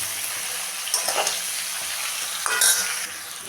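Eggplant goes into hot oil tempered with fenugreek, black cumin and garlic, and is stirred in. A close, steady sizzle carries through, broken by several scraping strokes and short louder crackles.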